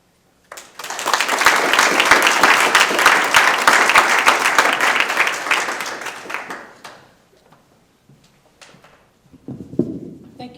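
Loud, steady audience applause at a school Black History debate, rising suddenly and lasting about six seconds before fading into scattered claps and a brief murmur.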